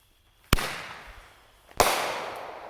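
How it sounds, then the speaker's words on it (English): Elite Fireworks Boom Cannon Roman Candle firing two sharp loud booms about a second apart, each followed by a crackling, fading tail of sparks. "here goes the Boom Cannon Roman Candle by Elite Fireworks"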